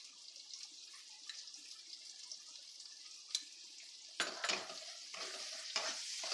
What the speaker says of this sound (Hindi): अब प्याज को अच्छे से भूनते एकदम लाल हो जाएगा